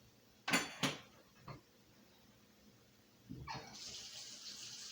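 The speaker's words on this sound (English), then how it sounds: "I am going to run some water in my sink." Tap water into an apartment kitchen sink, soft and close, with a couple of brief clanks first, then a steady splashing stream starting toward the end.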